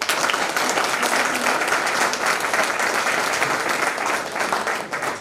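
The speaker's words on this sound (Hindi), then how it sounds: "जोरदार तालियों से" A crowd at a public event in Udaipur bursts into loud, steady applause to greet the chair of India's National Commission for Women, a dense continuous wash of clapping with no pause.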